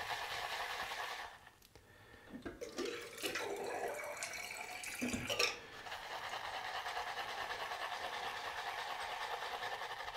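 Water runs and splashes while Saponificio Varesino 70th Anniversary shaving soap is worked, a steady hiss of running water with a few louder bursts midway, heard alone with no talking.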